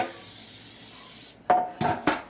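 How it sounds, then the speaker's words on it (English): A steady hiss of non-stick cooking spray onto a pan runs for over a second, then three short bursts follow in quick succession. "take you some non-stick cooking spray, and spray that pan"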